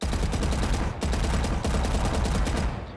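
A toy gun sound effect plays in a loud, rapid burst of crackling shots, sharp repeated pops running almost continuously with one brief break.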